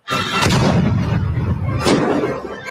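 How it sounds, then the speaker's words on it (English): A loud, sustained booming blast from a small backyard cannon, rumbling for a couple of seconds with a second surge of noise near the end. "Nice little house cannon, a little backyard cannon."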